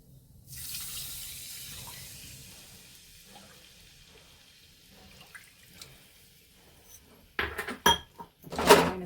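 Water is poured into a pot for cooking semolina, a soft running splash in the first seconds that trails into quiet drips, followed by sharp clattering knocks of metal utensils near the end.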